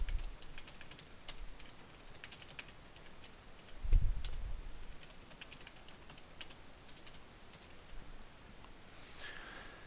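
Computer keyboard typing for text entry in scrapbooking software, with light, quick key clicks tapping in irregular bursts at close range and one heavier thump partway through.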